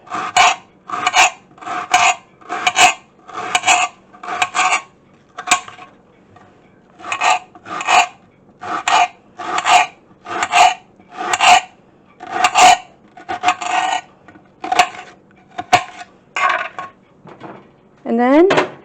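Cabbage is shredded by hand for corned beef and cabbage, producing about twenty loud, close, rhythmic rasping strokes with a brief pause partway through.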